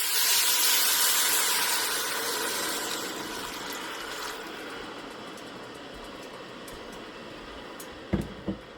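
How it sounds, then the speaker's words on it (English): Three cups of water poured into a pot of toasted rice for a beef rice dish, a loud steamy hiss and rushing pour that gradually settles, followed by a couple of brief knocks near the end. "Then we're going to add in 3 cups of water to this."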